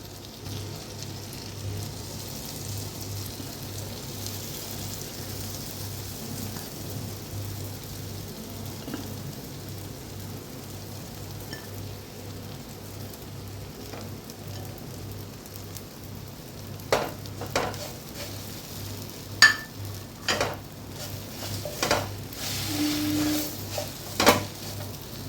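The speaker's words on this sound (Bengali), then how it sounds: "এগুলোকে হালকা করে ফ্রাই করে নেব।" Small cut bread pieces frying lightly in melted butter, a soft, steady sizzle for a long stretch, joined later by a few louder clicks and utensil taps against the pan.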